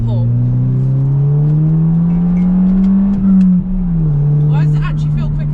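A stage 1 remapped Audi TT pulls hard in second gear, its engine a loud, close droning tone that climbs steadily in pitch, dips briefly, then carries on under acceleration.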